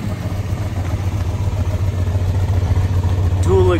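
A 1978 Chevrolet Suburban 4x4 engine idles low and steady close by, its dual exhaust giving a throbbing pulse, a faint squeak or voice briefly rising near the end.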